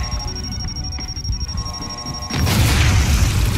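Video game explosion: a sudden loud boom that cuts in partway through and rolls on as a sustained rumbling blast over a steady tonal beep and background game noise.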